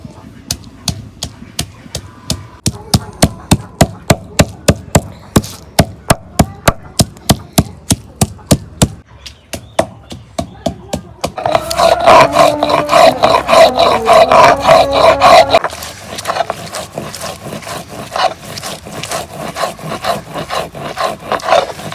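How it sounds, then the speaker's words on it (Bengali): Ginger and garlic being ground by hand on a sil-pata grinding stone for beef curry: loud, close rhythmic scraping strokes of stone on stone, then a stretch of harder continuous rubbing, with faint talk at times. "এখন শিলপাটার মধ্যে বাইটা নেব"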